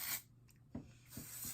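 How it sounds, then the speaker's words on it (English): Defrizz, anti-static hair spray misted from a can during a wet set, with broadband hissy bursts at the start and end and a few soft brushing taps in between, close and fairly quiet. "It's defrizz and anti-static spray, so it'll help with the brush out. So I spray first"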